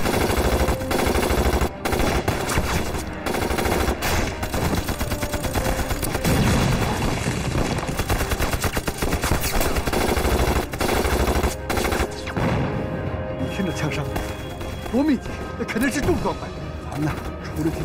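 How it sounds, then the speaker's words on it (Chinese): Dense machine-gun fire in a battle scene of a war drama set in the anti-Japanese war: loud, sustained rapid bursts and crackling volleys that continue almost without pause, with voices occasionally mixed in. "你听这枪声，多密集"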